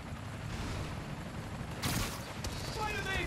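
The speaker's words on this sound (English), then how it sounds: "I need to head towards the gunfire." Gunfire in Marvel's Spider-Man: Miles Morales during a blizzard: a low rumbling wash of distant shooting, then two sharp, loud bursts of shots close together near the end.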